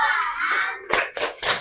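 Schoolchildren in a coding and AI class doing a thumb clap, a sustained children's chant or cheer followed by three sharp, close group claps in a quick rhythm.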